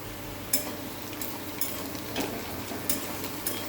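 Onions frying in a pan for an egg curry, a steady close sizzle broken by a few sharp scrapes and clinks of a spoon stirring against the metal.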